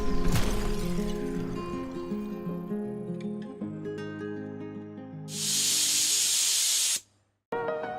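Power washer spray in a cleaning video game: a loud, steady hiss of pressurized water bursts in for under two seconds over layered game music, then stops abruptly.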